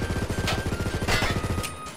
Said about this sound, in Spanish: La M4A1 carabina. Suena así.